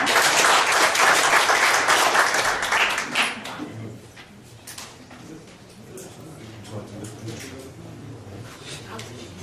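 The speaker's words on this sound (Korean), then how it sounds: "김경래 박사님 뜨거운 박수로 환영해 주시기 바랍니다" Listeners at a lecture on local autonomy and education policy welcome a guest speaker with loud, warm applause that lasts about three and a half seconds, then dies away into low murmuring and talk.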